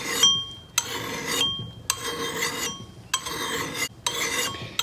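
Hand sharpening of an axe cutting edge, heard as repeated close rasping strokes of a file or stone across the steel, about five long scrapes with short gaps between them.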